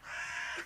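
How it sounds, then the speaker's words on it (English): A single crow caws once, a short harsh call heard clearly on its own against quiet. "The bird noises."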